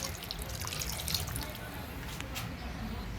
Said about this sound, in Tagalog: Ating lalagyan ng sabaw. Lagyan natin ng sabaw.